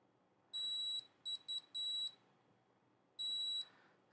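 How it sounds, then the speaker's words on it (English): Continuity-test beeps from a multimeter probing points on a PlayStation 2 SCPH-50001 board during a PS2Digital install: a steady high tone, then several short chirps in quick succession and another steady tone, over a faint room hiss. "I'm just going to touch every one of these just to make sure I don't get any beeps."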